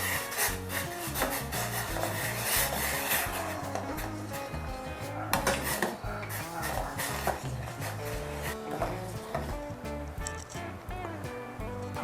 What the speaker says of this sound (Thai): แล้วก็คนให้กะปิละลายค่ะ